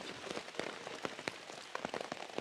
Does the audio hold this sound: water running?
no